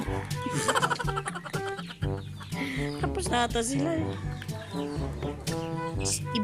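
Several native chickens clucking and squawking close by, busy and overlapping, with a brief spoken remark mixed in.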